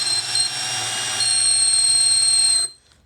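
A cordless power drill with a hole saw cuts a hole, a loud, steady high whine with shrill tonal overtones that runs for about two and a half seconds and then stops abruptly.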